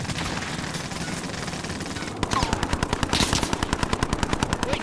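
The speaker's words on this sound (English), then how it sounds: "They're shooting at me!" Automatic gunfire in the video game Call of Duty: Modern Warfare: after a stretch of noisy background, a steady, rapid burst of loud, evenly spaced shots rattles on without pause.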